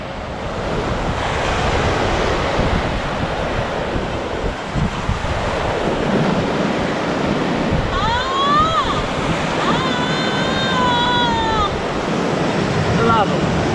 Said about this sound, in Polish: Fala jest za duża w tym momencie, ale wiadomo, Morze Bałtyckie nie jest łatwym miejscem do szukania z wykrywaczem metali